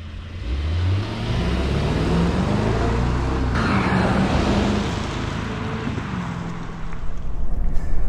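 A 2021 Mercedes-Maybach GLS600 4MATIC SUV on the move, a steady low engine and road drone with a gentle rise in pitch as it accelerates, growing a little louder toward the end.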